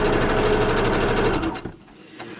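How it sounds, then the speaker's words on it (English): Sewing machine running a regular straight stitch through paper, a close, fast rhythmic whirring and tapping that stops abruptly partway through, leaving quiet room tone. "So I'm still just on a regular straight stitch."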